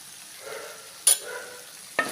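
Chilli powder and chilli flakes sautéing in a pan for tuna fish mezhukkupuratti, a quiet sizzle broken by two brief scraping stirs, close by, with no talking.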